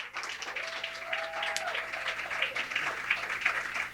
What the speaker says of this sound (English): Will you please give a warm welcome, start clapping right now, for Sonny!